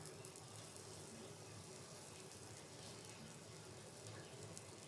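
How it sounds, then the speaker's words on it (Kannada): Rava-coated mackerel frying in a pan, a soft, steady sizzle with a constant hiss and faint crackle, low and even throughout, with no talk. "ಮಧ್ಯಾಹ್ನ ಊಟಕ್ಕೆ ಎಷ್ಟು ಬೇಕೋ ಅಷ್ಟನ್ನ ಫ್ರೈ ಮಾಡ್ಕೊಳ್ತಾ ಇದ್ದೀನಿ ನಾನು."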